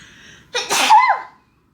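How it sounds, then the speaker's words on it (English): A single sneeze, close and sharp, with a quick breathy intake and then a burst, followed by silence. "I sneezed."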